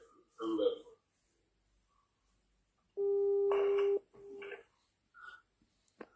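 A call is placed to a listener on a live call-in radio talk show about Ivorian politics: one steady telephone tone about a second long sounds between short bursts of nearby talk.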